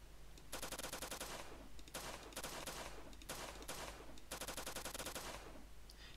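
Gunshot sound effect in a Godot game that gets cut short: dense, rapid bursts of automatic gunfire that repeatedly stop abruptly and restart, played continuously without speech.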